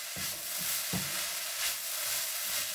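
Ginger and garlic sautéing in a pan for chicken fried rice give a steady close hiss, with a few soft stirring knocks near the start and middle.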